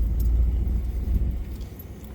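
A car drives along a rural road from Brewster toward a small town, its engine giving a steady low rumble with road noise that rises and eases slightly throughout.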